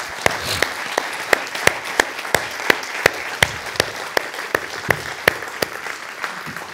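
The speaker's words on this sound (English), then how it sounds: "Let's do applause for everybody and all this good work." Audience applause at a talk on healing and love, a moderate group of people clapping with sharp, distinct individual claps standing out over a softer bed of hand claps, steady for several seconds.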